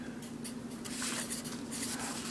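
Marker or chalk writing on a classroom board during a chemistry lesson on naming molecular compounds, a continuous scratchy rubbing of strokes, close and fairly quiet over a steady low hum, with no talk.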